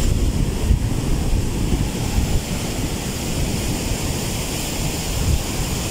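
Steady roar of sea waves breaking close by at a resort during a typhoon, with gusty wind buffeting the microphone throughout.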